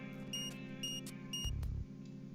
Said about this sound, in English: I turn around and see what the beeping sound is coming from.